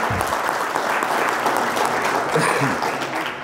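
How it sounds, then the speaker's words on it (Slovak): Audience applause fills the hall at a FIJET Slovakia award ceremony, steady and loud clapping from a crowd that holds on throughout, with a faint voice briefly under it. "Takže ešte raz potlesk"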